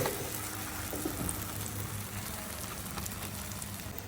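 Paratha frying in oil on a pan, giving a steady, even sizzle and crackle close to the ear, with no talking.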